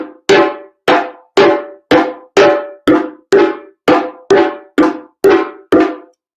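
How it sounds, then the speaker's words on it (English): Twelve sharp, ringing hand drum tone strokes played near the drum's edge at a steady, even pace, each one bright and resonant with a quick decay, played alone without talking. "When you play a tone sound, you're going to come towards the edge of your drum"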